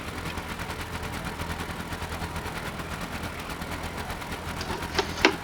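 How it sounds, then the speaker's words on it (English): A boat engine in the game Stormworks cranks with a fast, steady mechanical chatter, fairly quiet and continuous, ending in a couple of sharper clacks. "Don't mind the engine start noise."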